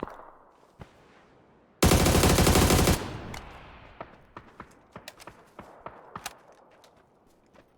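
Rapid rifle fire from the Mini in a PUBG match: a loud, dense burst of back-to-back shots lasting about a second, followed by scattered sharp distant cracks and footstep-like taps.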